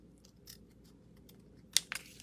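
Scissors cutting into a wiper card during a stamping session, a few faint snips followed by one sharp crisp cut and a couple of quick slices near the end, close and quiet.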